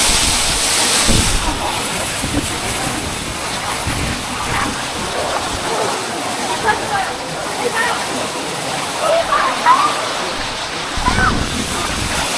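Changey waterfall in the Neora Valley near Kolakham, a steady broadband rush of falling water with wind buffeting the microphone, loud and continuous throughout, with voices faintly mixed in.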